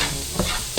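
Garlic fries in about three spoonfuls of cooking oil while being stirred, giving a steady close sizzle broken by a couple of short scraping stirs.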